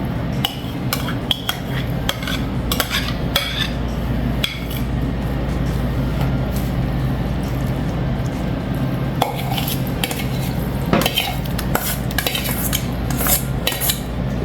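Fruit cake mixture being folded in a bowl with a utensil, giving repeated scraping clinks and taps against the bowl at an uneven rhythm over a steady background hum.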